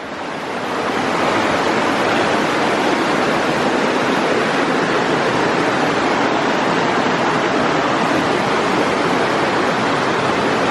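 The Laurel Fork river flows on the Appalachian Trail, a loud, continuous rushing roar of water that swells in during the first second and then holds steady and close with no break.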